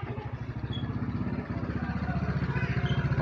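A Yamaha Mio scooter with a hard-starting problem and a ticking knock idles close by in a repair shop, its engine chugging in a fast even pulse, steady and fairly quiet with no talk.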